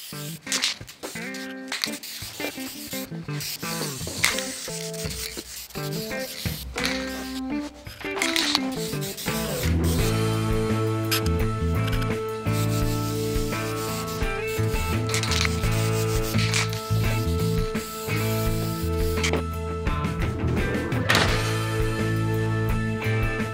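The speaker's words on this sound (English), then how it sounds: "I think what I'll do is give everything a final sanding" A wooden folding step stool gets its final hand sanding, with repeated rubbing strokes of sandpaper on wood over steady background music.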